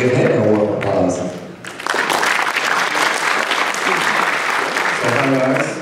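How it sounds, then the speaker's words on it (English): Loud, close audience applause for a speaker at a conference lightning talk session, bursting in after a voice and sustained for several seconds before speech resumes. "Hey, give him a warm applause."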